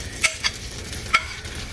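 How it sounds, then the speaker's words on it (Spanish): Butter melting in a pan for a Huancaína cream noodle sauce, a soft steady sizzle with a few sharp clinks of a utensil against the pan, close and alone. "está derritiendo la mantequilla"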